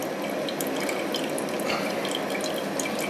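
Distillate flowing from a homemade four-inch flute column moonshine still: a steady, close trickling and splashing of liquid, continuous and fairly loud, with no talking.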